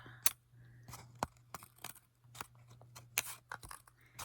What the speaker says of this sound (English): So I'm going to give this a little snip.